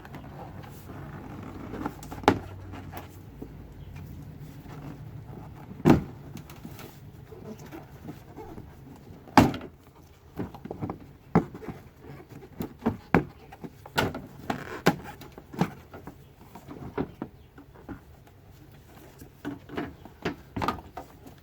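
Headlight assembly being worked loose from a 2005-2010 Chevy Cobalt, a series of sharp plastic clicks, snaps and knocks scattered irregularly over quiet background, some close and loud.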